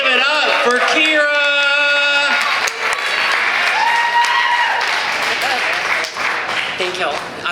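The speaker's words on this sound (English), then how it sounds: "get those hands a clapping" An audience at a trans talent show in the West End Brewery claps and cheers for a performer, with a steady wash of applause running beneath voices that talk over it.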